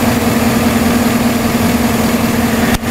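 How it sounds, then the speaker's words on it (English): A 2009 Chevy Silverado engine idles with a cylinder misfiring, giving a loud, steady low hum with a faintly uneven, chugging pulse close by, briefly dipping near the end. "Now we caught the misfire while it's occurring right now."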